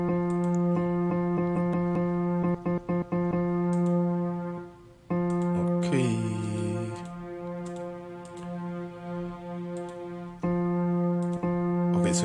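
A digital keyboard layers a soft grand piano with a warm strings voice, sustaining chords with a thick, steady tone; a few quieter clicks and a brief brighter swell interrupt midway before the chord rings on.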